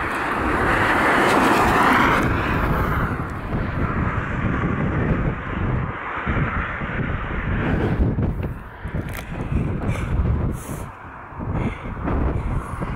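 Strong wind buffets the microphone while cycling uphill, producing a loud, continuous roaring rumble with surging gusts throughout.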